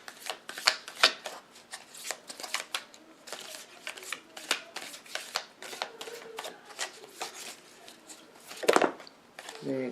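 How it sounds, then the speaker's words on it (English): Deck of tarot cards being shuffled by hand, a close series of sharp riffling slaps and card flicks in irregular bursts, with a louder flurry near the end. "I know I got to shuffle these different"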